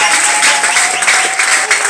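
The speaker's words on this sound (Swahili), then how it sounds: "Piga Yesu makofi." A church congregation claps loudly and steadily during worship, dense applause close by, with voices mixed in.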